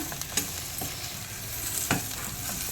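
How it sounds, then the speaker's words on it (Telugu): Spinach (bachali kura) and toor dal curry frying dry in oil in a pan, a steady soft sizzle with a few brief scrapes of stirring, no talking. "కొంచెం మంచిగా నూనెలో వేగాలి పప్పు కూర."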